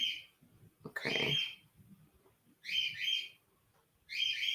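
Pet birds indoors give bursts of high, bright chirping in three separate clusters with quiet pauses between, moderately near and alone.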